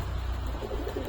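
A pair of adult Kaldama Giribaz pigeons in a home loft coo softly in low, murmuring pulses under a steady background hum, with no voices.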